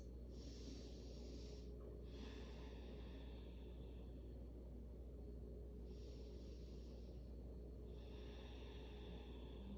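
Slow, deep breaths during a sunrise yoga practice, each long airy inhale or exhale lasting nearly two seconds and separated by short pauses, over a steady low background hum.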